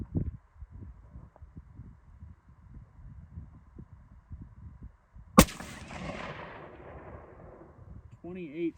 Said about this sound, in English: So I need to shoot that about 2 more times here, and we'll verify.